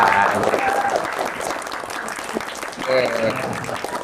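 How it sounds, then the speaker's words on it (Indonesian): Brief round of applause from students in a classroom, moderately loud clapping swelling and fading over a few seconds, with voices and a teacher talking over and around it. "Tepuk tangan dulu dong"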